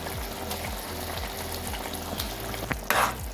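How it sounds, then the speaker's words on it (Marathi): Veg Manchurian balls are dropped one by one into a pot of boiling water. A steady, rhythmic bubbling runs throughout, and a splash comes near the end. "हे असे आपल्याला एक एक करून त्यामध्ये सोडायचे"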